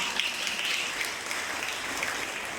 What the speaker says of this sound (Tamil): உங்களுக்கு இந்த வாய்ப்பு அளித்த தோழமைக்கும் மற்றும் எல்லாரும் சேர்ந்திருக்க ஆர்கனைஸ் டீமுக்கு ஒரு பெரிய கைத்தட்டு